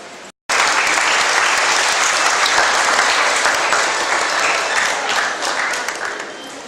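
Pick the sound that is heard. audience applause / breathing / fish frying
audience applause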